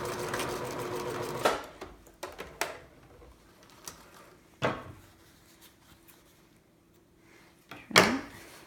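A sewing machine stitches a photo pillow in a steady mechanical run for about a second and a half, followed by a few sharp knocks and clicks and a final loud clack.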